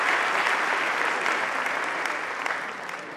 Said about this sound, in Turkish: bu öğrencilere vermiş oldukları destekten dolayı kocaman bir alkış almak istiyorum